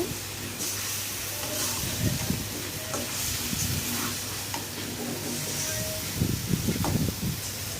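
Taro stems and shrimp being stirred and fried in a pan give a steady sizzle and hiss, with intermittent scraping stirs, fairly soft and close, with no talking.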